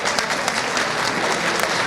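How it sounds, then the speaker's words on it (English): An audience at an alumni gala applauds the day's winners, with steady, dense clapping that stays loud throughout. "let's give a big round of applause to all of our winners today"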